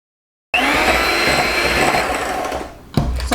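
An electric hand mixer creams blueberry muffin batter, a steady whirring drone that starts abruptly after a brief silence, holds level and close, then dips near the end before a short bump of motor noise.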